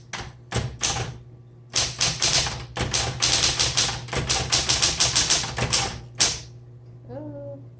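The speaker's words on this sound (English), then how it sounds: "let's go ahead and type with this one. This is a 1960s." Clacking keystrokes of a 1960s Smith Corona Automatic 10 manual typewriter, bursts of quick rhythmic strikes with short pauses, close and loud, ending with a brief mechanical creak.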